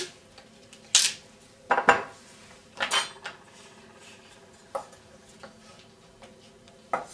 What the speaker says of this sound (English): the next vegetable I'm going to be cutting is some celery